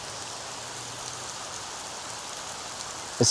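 Steady rain falling at Leura Cascades in the Blue Mountains, a dense even hiss of drops with no pauses, ending in a brief louder thump.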